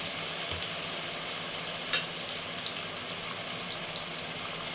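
Tomatoes cooking in a pan with chicken and meat give a steady, close hiss of frying that runs evenly throughout, with one brief clink partway through and no talking.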